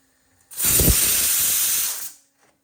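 Tarka tempering for khichdi hits a hot pan with a sudden loud hiss, a steady steamy sizzle that holds for about a second and a half before cutting off, with quiet surroundings on either side.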